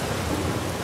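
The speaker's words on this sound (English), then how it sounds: "these thunder sounds are crazy" A rumble of thunder with heavy rain in The Last of Us Part 2, a dense, loud roar of rainfall and low rolling storm noise that stays constant.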